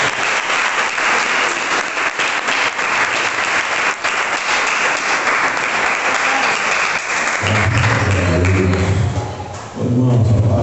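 A church congregation applauds loudly and steadily, a dense wash of clapping that fills the room, with a voice starting to speak over the tail end of the applause.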